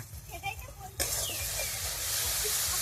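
Garlic paste dropped into frying onions in oil while cooking chicken biryani, a sudden loud sizzle that bursts in and then hisses steadily, with a faint voice before it.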